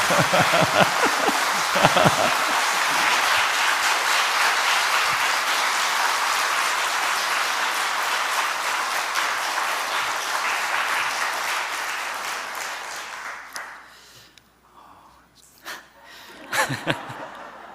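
A church congregation gives a third round of applause at a Wednesday night prayer meeting, sustained dense clapping that fades out near the end, followed by a few scattered claps.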